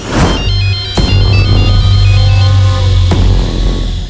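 A telephone ringtone trills with a repeating electronic pattern over a steady low hum, loud and continuous for about four seconds with no speech.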